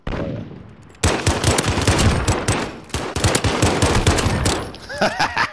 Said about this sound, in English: All I heard was like a barrage of like pistol fire.